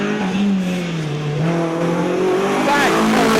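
A rally car on a gravel stage at the East Riding Stages Rally, accelerating hard out of a corner with a rising engine note that climbs and sustains, loud and fairly close, with a commentator talking over it.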